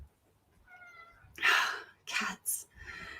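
A house cat meows faintly indoors during a talk at an event: a thin, drawn-out cry, then a few louder, breathy bursts close by.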